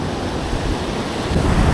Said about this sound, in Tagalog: Yan o, lumakas na rin yung mga alon.